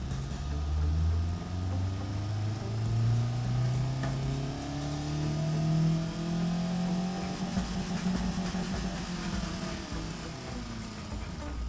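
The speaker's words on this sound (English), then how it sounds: "Yep, this engine does its job." A car engine designed in the video game Automation revs up through rising and falling sweeps, loud and close throughout, with the pitch climbing through several gear-like steps before settling into a steady drone.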